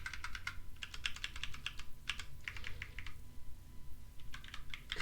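Typing on a computer keyboard in bursts of quick, close key clicks separated by short pauses, with no voices.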